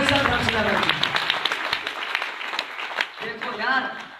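Loud applause and clapping from an audience at a DXN company meeting, dense claps spreading across the room with talk running over them before the clapping thins out.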